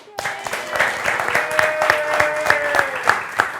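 Audience applause at the close of a talk show episode on doulas and pregnancy, a dense steady patter of many clapping hands running throughout at close range.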